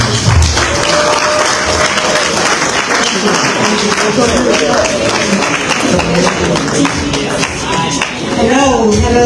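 Audience applause at the Key to the City awards ceremony in Monrovia: a steady wash of clapping from a crowd lasting throughout, with voices and chatter mixed in beneath it.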